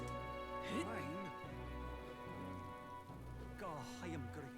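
Steady rain falls in the video game Metaphor: ReFantazio as a constant hiss of drops on surfaces, with in-game voices and tonal game sounds rising over it throughout.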